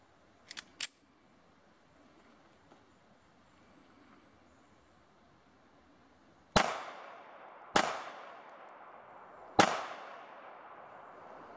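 A Kahr CT380 pistol fires Hornady 90 grain hollow point rounds, three sharp separate shots a second or two apart, each with a short ringing tail, after a pair of small clicks at the start.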